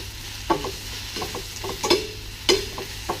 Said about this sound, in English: just now just move that around the pan. See, it's already starting to wilt